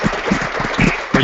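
Audience applause fills a short moment at a talk on virtual reality, a dense, close burst of clapping with no speech on top.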